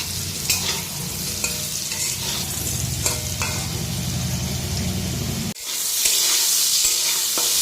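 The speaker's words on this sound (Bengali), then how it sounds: "আলুটা এখন ভেজে নিচ্ছি" Potatoes fry in a pan with a steady sizzle while a utensil stirs and scrapes in quick rhythm; the sizzling then flares into a brighter, louder hiss near the end.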